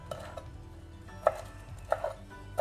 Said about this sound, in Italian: iniziamo a tagliuzzare il prezzemolo